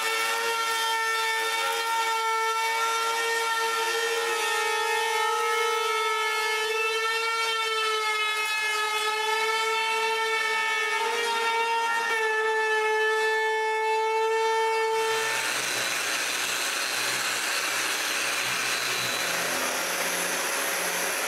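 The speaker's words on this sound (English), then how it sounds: "I can route a roundover on the edges." A router cuts a roundover along the wooden edging of a water cabinet, holding a steady high-pitched motor whine for about fifteen seconds before it shifts to a rougher, broader cutting roar that continues to the end.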